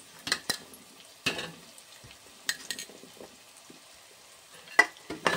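Sweet corn kernels are tossed and stirred in a frying pan with spiced oil. Soft sizzling runs under intermittent scraping stirs and clacks, heard close and on their own.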